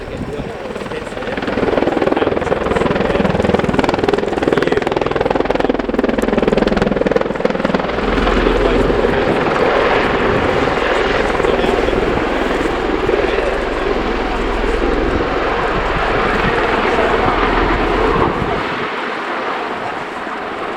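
Bell Boeing CV-22B Osprey tiltrotor performing a flying display at the RIAT air show at Fairford, a loud, continuous rotor and engine roar that rises and falls slightly before dropping away near the end.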